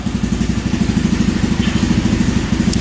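An SSR 125 pit bike engine running just after a hard start, a steady, close, loud, rapidly pulsing idle that fills the whole moment.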